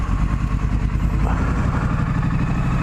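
Triumph Street Scrambler twin-cylinder engine with standard exhaust pipes idles steadily and loudly up close, a continuous low throbbing rumble with no talk over it.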